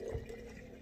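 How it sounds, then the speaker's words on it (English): Vinegar pouring into a glass mason jar for an infused all-purpose cleaner, a soft, brief liquid trickle that fades quickly, fairly faint and close, with no talk. "So I just pour the vinegar into my mason jar."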